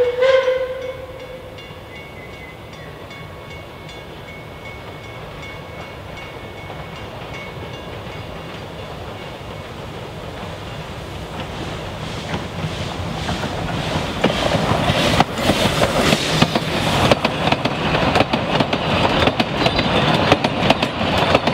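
Puffing Billy steam locomotive 7A and its test train roll down grade over a level crossing, wheels clattering and rumbling, starting soft and growing louder and closer toward the end, with a brief horn-like tone near the start.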